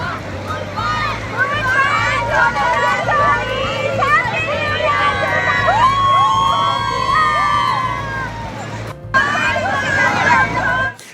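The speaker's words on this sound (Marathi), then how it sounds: "आज आपण बघतोय समुद्र किनाऱ्यांवर मोठ्या प्रमाणात 31च्या निमित्तानं पर्यटन स्थळी नागरिकांनी गर्दी केलेली आहे." Tourists throng a seaside beach on New Year's Eve, a dense babble of many voices with occasional shouts and cheers, continuous and fairly loud, with a few nearer voices standing out.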